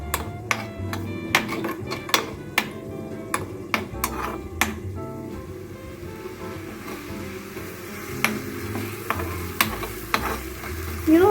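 Moong dal tadka frying in desi ghee on a gas stove, a continuous close sizzle broken by frequent sharp clinks and taps of a utensil against the pan, no voices.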